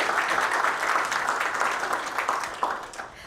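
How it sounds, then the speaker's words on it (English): Applause from the audience at a live awards announcement event, a steady dense wash of many hands clapping that holds level for about three seconds and then begins to thin out. "So let's give one more round of applause for Miss Patricia Kelly."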